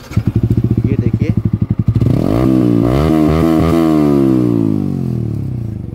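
A Yamaha R15 V4 sport motorcycle fitted with an Akrapovic exhaust, revved up close: a rapid throttle-blipping burble first, then a loud sustained rev that climbs and slowly falls away.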